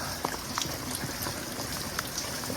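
Steady rushing and trickling rainwater running off a deck into a drain, with scattered drips and splashes throughout.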